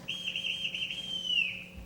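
A single long, sustained whistle blown to summon people, steady and clear with a slight downward bend at the end, sounding alone over a faint low hum.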